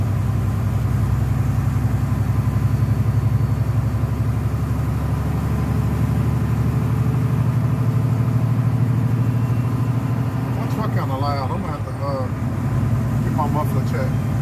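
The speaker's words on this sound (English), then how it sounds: "It sounds like my truck got louder." A truck engine with a suspected muffler leak idles loudly and steadily in close-up, a low rumbling drone throughout, with a person talking over it near the end.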